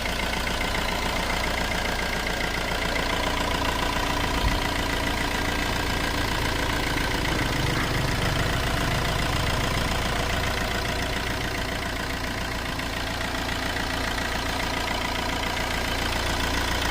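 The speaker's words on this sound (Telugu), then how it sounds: "ఇంజిన్ స్టార్ట్ చేస్తున్నానండి సౌండ్ ఎలా ఉంది" A Tata Zest car engine idles steadily and evenly from start to finish, a close, constant rumble with no talking.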